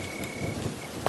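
Rain and rolling thunder from a stormy night in an animated Hindi horror story: a steady hiss of rainfall with a faint rumble, lasting only about a second, with no voices.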